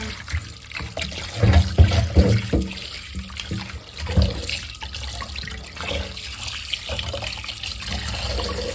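Tap water runs and splashes as beef shank pieces, soaked in vinegar and salt, are washed in a sink or bowl. The flow is steady and close, with irregular sloshes and clunks from handling the meat.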